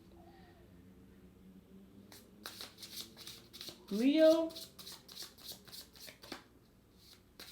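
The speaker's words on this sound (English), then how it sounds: "I'll shuffle while I'm doing that." A deck of cards is shuffled several times in quick riffling bursts, close and crisp, with a voice speaking briefly at the start and soft talk around the shuffles.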